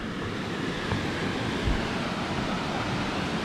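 A small waterfall spills into a shallow rock pool as a steady, broadband rush of water, with wind noise on the microphone and no voices.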